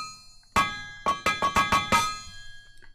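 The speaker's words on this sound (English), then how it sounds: "And then we hammer it." Six ringing metallic clangs of a hammer striking steel on an anvil at a blacksmith's forge, one single blow followed by five quicker strikes, each ringing out briefly, loud and close with no voices.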